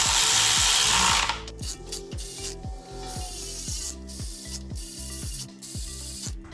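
A hand ratchet clicks in quick, repeated bursts as bolts on a rebuilt Volkswagen Beetle engine are snugged down in a tightening pattern, each stroke a sharp rhythmic series of pawl clicks, close and clear with no talk.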